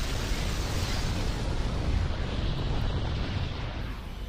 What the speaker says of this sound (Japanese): 2万8000光年彼方の M80 サソリ座球状星団で起こった 超新星爆発。